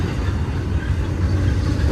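Freight train rolling past a trackside spot, a loud continuous rumble heavy in the low end with steady rail noise and no voices.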